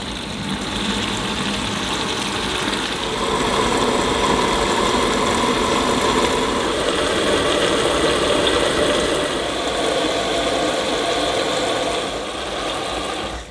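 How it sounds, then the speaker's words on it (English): Cold tap water pours steadily into a Tefal Washboy portable washing machine, making a constant rushing hiss that grows slightly louder partway through, with no speech. "now we can turn on the tap and start filling with cold water."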